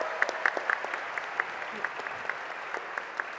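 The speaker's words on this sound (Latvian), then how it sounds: "Tāpēc vai mēs varam visi tādus skaļus aplausus?" An audience at a Junior Achievement Latvia event claps, with a thin patter of individual claps standing out at an uneven rhythm over a softer wash of applause, moderately loud and without speech.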